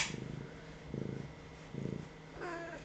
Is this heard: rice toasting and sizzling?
no